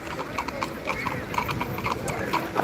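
Horses' hooves clip-clop on a street in Salzburg, a steady close rhythm of hard knocks running through the whole moment, with faint voices and city ambience in the background.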